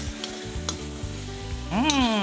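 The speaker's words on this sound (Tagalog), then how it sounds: "Para maprito-prito din yung ating patis, mas lalabas ang linamnam ng ating spare ribs." Spare ribs frying in fish sauce in a pan, a steady close sizzle with light stirring and a louder hiss swelling near the end, no voices.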